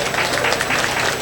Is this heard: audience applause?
yes